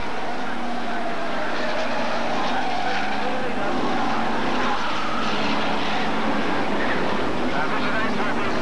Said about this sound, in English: And we've cars spinning out.